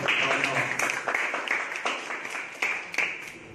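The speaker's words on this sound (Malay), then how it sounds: "Tepuk tangan." A classroom of students clapping to applaud a pupil during a Malay language lesson, a dense, steady patter of many hands that stays fairly even throughout, with some voices mixed in.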